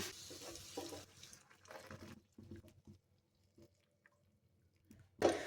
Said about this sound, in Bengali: এখন দুধটা এই গাজরের মধ্যে দিয়ে দিচ্ছি।